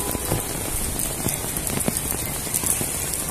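Steady rain pattering on a hard surface, with scattered louder drops and no voices.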